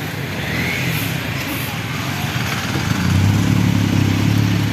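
Heavy road traffic near a convention venue rolls past, with steady engine rumble from many cars and motorcycles, one engine growing louder and closer near the end, while a person talks over it.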